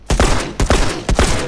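Three gunshot bursts ring out in The Last of Us Remastered, each a sharp loud crack with a short rumbling tail, spaced about half a second apart, with no talk.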